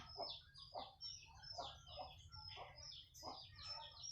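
Game chickens cluck in a steady series of short calls, fairly close, over a constant low background hum with no talking.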